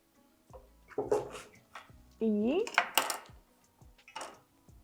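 A knife chops through a fibrous vegetable in a kitchen, a few separate sharp cuts and thuds against a board spaced out with pauses, mixed with clinks of utensils and brief voices nearby.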